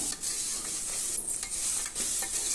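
Black chana fries in a pan with onion, turmeric and salt, sizzling loudly and continuously while a utensil stirs and scrapes in short bursts, with no voices.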